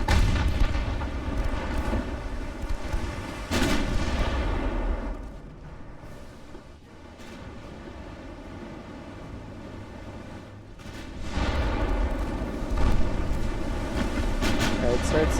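Heavy naval gunfire from 1890s-era battleships in the Ultimate Admiral: Dreadnoughts game, with deep booming salvos and a sustained low rumble that swells, eases off in the middle, then builds again.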